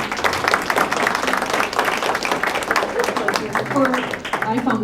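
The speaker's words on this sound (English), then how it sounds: "Let's give them a round of applause." A room full of people applauds panelists at an emergency-preparedness event, a dense steady patter of clapping that continues throughout with voices mixed in.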